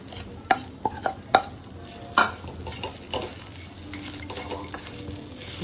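Okra is tipped into a pan of sautéed mixture and stir-fried, with a spatula clattering and scraping against the pan in quick bursts over a soft, close sizzle, and no one speaking.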